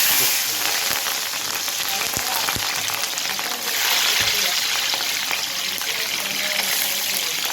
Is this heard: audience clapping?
no